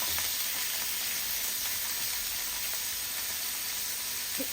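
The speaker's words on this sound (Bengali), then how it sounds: "এক সাইডটা ব্রাউন করে ভেজে নেব।" Gentle, steady sizzle of food frying over low heat in a pan while one side browns, with a soft continuous hiss and no voices.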